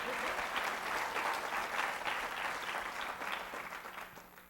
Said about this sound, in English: How about another round of applause for Elizabeth?